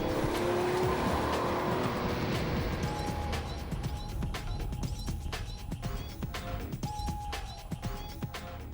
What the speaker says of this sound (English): the car's gone from rest to 60 and back again.